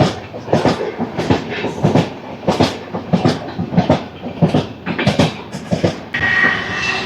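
The Tirupati–Secunderabad Padmavati superfast express, train 12731, running at speed with loud, rhythmic clickety-clack of wheels over rail joints, heard close from on board and steady throughout, with no voices.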